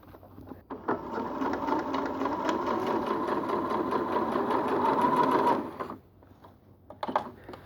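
A sewing machine runs one steady, close run of stitches along a black trouser hem kept on a chalk line, lasting about five seconds before stopping, with faint handling noise around it.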